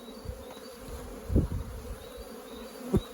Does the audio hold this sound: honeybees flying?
yes